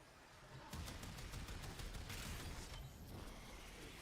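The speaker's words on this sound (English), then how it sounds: "I heard a Minecraft firework" A Minecraft firework in the video game gives a rapid string of sharp crackling pops after a brief quiet start, faint overall and fading toward the end, with no talk over it.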